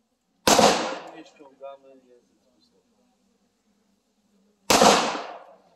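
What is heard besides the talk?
gunshots from a firearm at a shooting range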